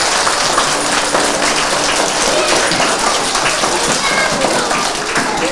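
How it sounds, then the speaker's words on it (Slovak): An indoor audience claps steadily throughout at a St. Nicholas Christmas program, right after a symbol of Christmas happiness is lit, with voices mixed into the dense, continuous applause. "asi si to zaslúži potlesk"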